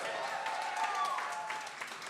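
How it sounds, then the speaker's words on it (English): Audience applause for a poet at a youth poetry event, a steady wash of clapping at moderate level with a faint voice or cheer riding over it. "Clap it up for Hampton Roads"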